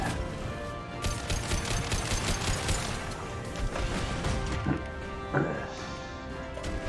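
Assault rifle fire from Mass Effect 2 rattles steadily in a sci-fi battle, with sharp impacts and crashes mixed in, fairly loud and continuous throughout.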